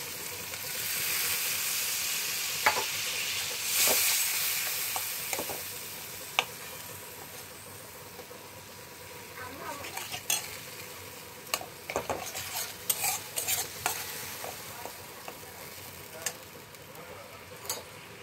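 Spice paste fries in a pan for stuffed patol, a soft sizzle at first, then sharp clicks and scrapes of a utensil in quick scattered bursts as water goes in, quiet and close.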